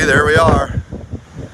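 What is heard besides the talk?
wind blowing on an RV balcony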